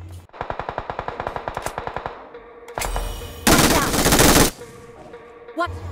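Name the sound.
gunfire in PUBG Mobile (BGMI) video game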